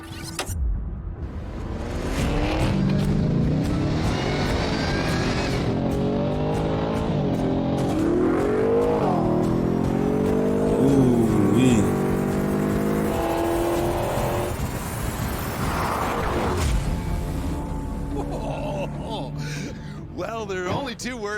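A Ford Raptor R drag races luxury SUVs such as a Cullinan, Urus, G63 AMG and Escalade V, with sustained roaring engines and rising revs throughout and excited voices talking over the racing.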